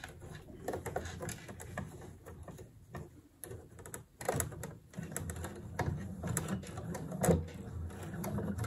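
A sewing machine stitches a blouse and then runs in reverse to backstitch, giving an irregular run of close mechanical ticking and clattering bursts at moderate level, with no talking.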